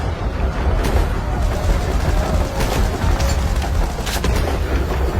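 Explosion sound effect in an animated Hindi story about a cave and a tunnel, heard as a continuous loud stretch of booming, crackling blasts like gunfire and rumble, with no pause for the whole stretch.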